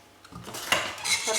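A spoon scrapes and clinks around a bowl in a short stirring motion, mixing egg, sugar and flour batter, close by and moderately loud, with no voices.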